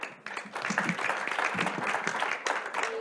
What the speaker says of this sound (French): qui mérite aussi nos applaudissements publics